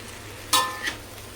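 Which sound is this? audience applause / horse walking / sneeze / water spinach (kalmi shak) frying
water spinach (kalmi shak) frying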